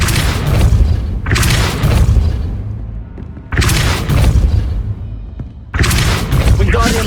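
Repeated heavy blasts from a Depulso spell in the Hogwarts Legacy video game, three or four loud booming bursts each lasting about a second, spaced by short gaps.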